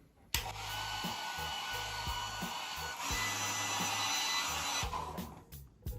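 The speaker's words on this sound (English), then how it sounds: "let me get my ancient hairdryer" An old hair dryer blows with a steady, loud whooshing roar, switching on abruptly and running continuously, its pitch shifting slightly midway before cutting off.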